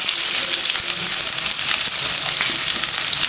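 Chopped onion with cumin seeds and curry leaves sizzles steadily in hot oil in a pan, a close, continuous loud frying hiss with no talk.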